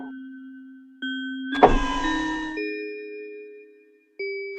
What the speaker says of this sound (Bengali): গাড়ির পেছনে ডিকিটা খোল